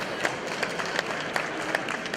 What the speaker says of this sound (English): Premature applause.